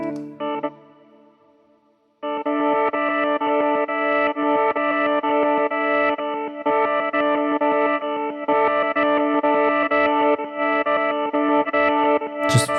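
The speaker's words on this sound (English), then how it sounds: "when I take on this side, it adds on some like octave glitchy stuff, which I'll show you." A guitar played through a pedalboard effect adds octave tones and glitchy stuttering textures, producing bright, chopped, layered notes that run steadily after a short quieter opening.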